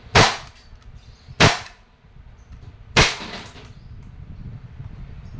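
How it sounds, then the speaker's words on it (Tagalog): An Umarex Glock 17 Gen 5 steel BB airgun fires three sharp, loud cracks at a Spam can, spaced about one to one and a half seconds apart, each a short snappy pop with a quick decay, and nothing else in between. "Try natin yung lata ng spam. Firing."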